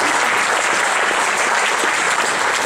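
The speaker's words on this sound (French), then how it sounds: "je tiens à le féliciter et vous pouvez l'applaudir, Pierre Facon, conseiller général." Loud, dense applause from a crowd at a French political party's New Year event, honoring a general councillor; continuous clapping throughout the short stretch with no voices on top.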